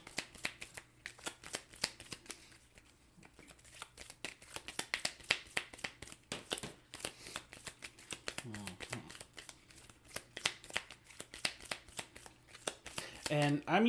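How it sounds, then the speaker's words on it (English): Deck of Marvel United game cards shuffled by hand on a tabletop, a long run of rapid riffling clicks and flutters across most of the span, with brief pauses between riffles and a voice talking over parts of it. "I'll shuffle up Deadpool's deck."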